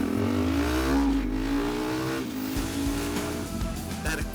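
A customised Husqvarna Svartpilen motorcycle pulls away from a stoplight, its engine note rising loudly as it revs through the gears and fades slightly toward the end.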